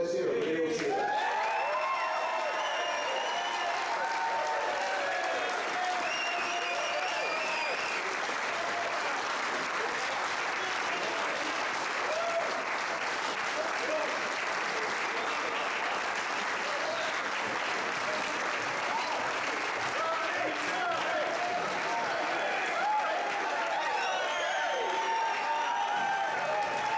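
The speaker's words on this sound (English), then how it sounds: "Let's hear a real cheer." An audience at an 8-ball billiards tournament final applauds and cheers in a long, sustained wave of dense clapping, fairly distant and even, with crowd voices mixed in.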